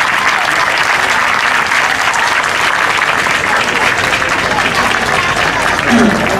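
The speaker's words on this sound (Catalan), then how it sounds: "Per tots ells, un fort aplaudiment." Loud, dense applause fills a hall for the speakers opening the town festival in Puig-reig, sustained heavy clapping from a large crowd at steady intensity, with a few voices mixed in.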